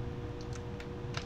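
A few faint, light computer keyboard taps, scattered and brief over a steady background hum.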